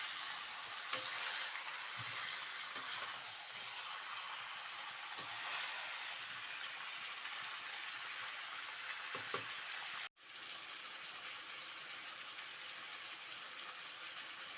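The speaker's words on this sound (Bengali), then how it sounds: "এটাকে আমি ভালোভাবে নাড়াচাড়া করে নিচ্ছি যাতে মশলাগুলো পুরো মাখিয়ে যায়" Chicken and potatoes coated in spices and stirred in a pan, a faint continuous hiss of frying with a few soft knocks of a utensil and a brief cut near the end, quiet throughout, with no talking.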